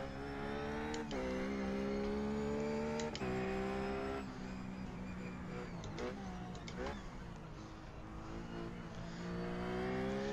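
A Ruf race car's engine in iRacing at Bathurst holds a steady, close drone, with quick rev changes and gear shifts marked by brief clicks, and a voice talking over it.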